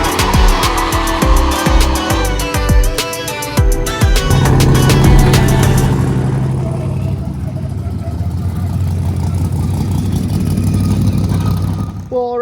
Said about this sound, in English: that's how you start off a good old route stop in the morning with some trailer burnouts